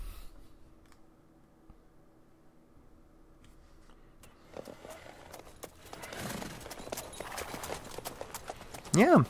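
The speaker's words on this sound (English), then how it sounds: "That horse is still right there in the middle of the bridge." A horse's hooves clip-clop in Witcher 3, faint at first and then louder and busier toward the end, under soft game ambience and a brief whinny-like sound.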